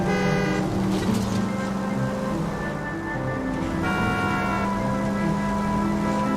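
A car horn honks several times amid road traffic in the video game L.A. Noire, sustained blaring tones repeating over a low engine rumble.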